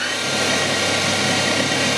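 A small SNNC 185 lathe runs at 2000 RPM while milling, making a steady, loud and continuous mechanical whir with no breaks.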